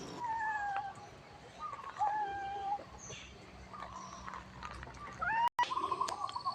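Several cats meow repeatedly at Wat Pong Chai temple in Chae Hom, Lampang, with drawn-out rising and falling cries close by, overlapping at times, amid light outdoor background noise.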